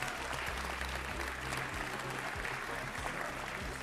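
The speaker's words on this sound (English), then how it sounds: "please applaud them for their great performance today" Audience applause at a BBC awards ceremony final in 2008, a steady, dense wash of clapping from a large crowd that holds evenly throughout with no talk over it.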